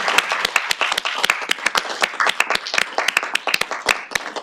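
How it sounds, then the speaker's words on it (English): A room of people gives a round of applause for a group of Change Champions at a teachers' retirement board meeting, with dense, irregular clapping from nearby hands that holds steady for several seconds. "let's give them a big round of applause"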